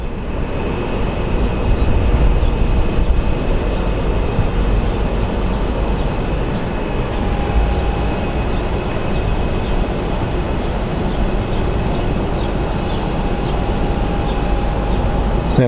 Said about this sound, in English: Then we have the Delta Airlines A321 that is going to be headed to, I believe it is headed to Atlanta. That just rolled up.